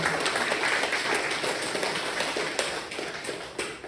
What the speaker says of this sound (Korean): 우리 이 목적 한번 건강하시라고 크게 한번 박수하겠습니다.